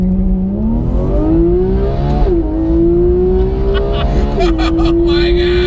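A Porsche GT3 launching hard with launch control, its engine screaming upward through the revs, with two quick upshifts dropping the pitch before it climbs again, loud from inside the cabin as a passenger voice speaks over it.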